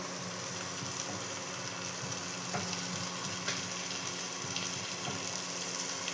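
Green chillies frying in a pan with salt and turmeric for kaataa chocchori, a Bengali fish-bone dish, giving a steady close hiss with faint stirring clicks throughout and no talk.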